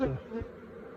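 Honey bees hum in a hive box, a near, buzzing drone that is brief and fairly loud.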